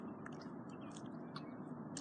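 French fries being chewed close to the ear, with soft crunchy bites and wet mastication over a steady low background hum, faint overall.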